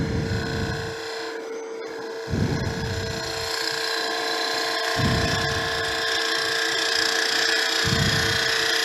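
Wood lathe turning a cocktail smoker piece, a half-inch spindle gouge cleaning up the outside wall, giving a steady scraping, rubbing cut with a constant motor whine and periodic low thumps, fairly close.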